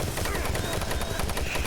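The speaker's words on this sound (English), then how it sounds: "This machine gun rocks too." A machine gun fires in the 2004 PC game Doom 3, a dense, continuous burst of loud automatic gunfire throughout.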